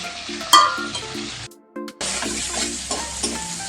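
A dried chili, bay leaf, cumin and whole garam masala crackle in leftover oil in a kadai, with close spatula scrapes and clanks at a steady rhythm, one brief gap in the sizzle partway through.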